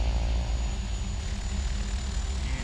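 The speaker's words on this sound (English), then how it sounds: "And engine 1 is spooling up." In the FSX flight simulator, a King Air 350's number one turboprop engine spools up with a dense, steady turbine roar and whine that stays loud and even throughout, with no one talking over it.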